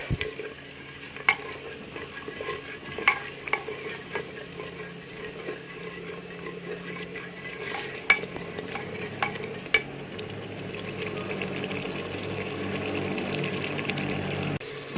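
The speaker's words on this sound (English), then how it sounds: "We had already added 1 cup of tomato, so we are mixing it up." Chicken korma with tomato is stirred in a clay pot, with repeated scraping and clacking strokes over a soft, steady simmering sizzle that grows slightly louder toward the end.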